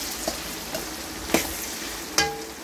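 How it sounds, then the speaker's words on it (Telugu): Drumstick (moringa) pieces frying in oil in a pan, a steady sizzle punctuated by a few sharp clinks and scrapes of stirring. "ములక్కాయలని కొంచెం సేపు వేపుతాను ఫ్రెండ్స్. నూనెలో వేపితే బాగుంటాయి"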